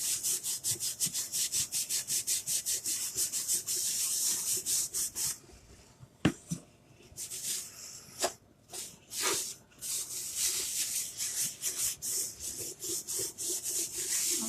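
Wax is rubbed by hand onto porous wood in steady back-and-forth strokes, a close, soft scratchy friction with brief pauses midway and a few light knocks.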